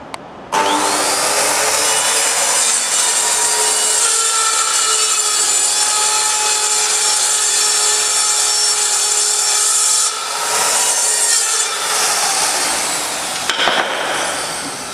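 A circular saw runs steadily through sheet material, a loud sustained whining cut lasting over ten seconds, with a brief dip before the blade finishes and spins down.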